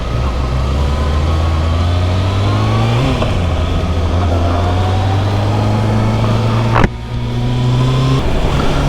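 A Kawasaki sportbike engine revs loudly and steadily while riding, its pitch rising and dropping through gear changes, with a brief sharp burst near the end.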